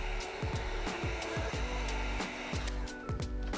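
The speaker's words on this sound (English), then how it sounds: "So use the high setting if needed, and apply heat evenly throughout the entire tail light." Heat gun blowing steadily on a 2014-2025 Dodge Durango tail light during tint installation, a faint continuous airflow whir with its pitch rising and falling as it is moved, with no voices.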